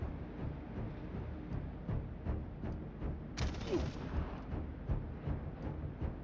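Squad gunfire in the turn-based strategy game Xenonauts 2, a string of rapid shots and bursts crackling over a low rumbling game backdrop, with one sharper hissing blast partway through.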